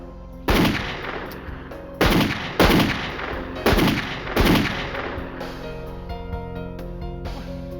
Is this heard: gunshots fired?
yes